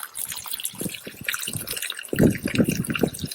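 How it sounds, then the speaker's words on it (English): Water drains from a cast-iron lawn pump tank out through an open hose bib, a close, continuous gurgling trickle with irregular splashy drips that swell louder toward the end. "Come over to the hose bib, open that up so the rest of the water drains out."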